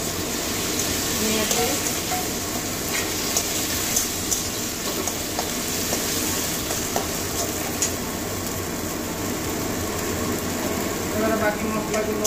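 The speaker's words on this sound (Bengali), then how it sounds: "টমেটোর সঙ্গে কষিয়ে নেবো মশলা" Spices and chopped tomato are stir-fried in hot oil in a pan for a Bengali katla fish curry with tamarind, giving a steady, dense sizzle with scattered stirring scrapes.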